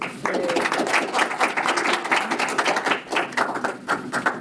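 An audience at an investor pitch event applauds the next presenters with dense, continuous clapping that stays fairly loud throughout.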